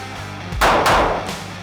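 Two sharp handgun shots, a SIG or Glock fired during draw drills, crack in close succession, loud and near, each leaving a brief ringing tail.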